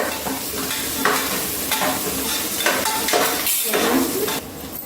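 Onion and green chillies tossed into hot oil, a loud continuous sizzle close by with spoon scrapes against the pan, no talking.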